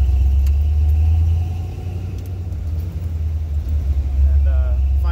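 An early Ford Bronco drives along with a deep, steady engine rumble, loud and close throughout, its low drone dipping briefly before building again.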